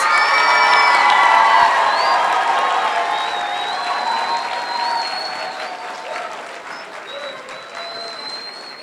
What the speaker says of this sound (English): Please give this group and all of our graduates a big round of applause